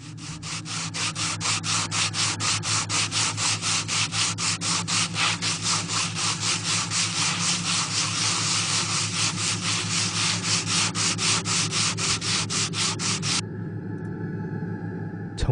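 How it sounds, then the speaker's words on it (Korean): A broom sweeping a floor in an empty, echoing study room, used as an effect in a horror radio story. Fast rhythmic scratchy strokes repeat steadily for about thirteen seconds, then stop abruptly, with no voices. "저와 교묘하게 빗자루 소리를 맞추듯이 하지만 조금씩 엇박자로 쓰는 소리가 여자방 쪽에서"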